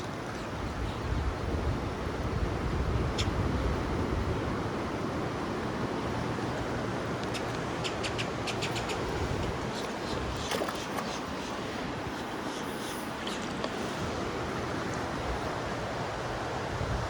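Water lapping and rippling around pier pilings and shallow tidal pools, a steady broadband wash that stays loud and continuous throughout, with wind buffeting the microphone.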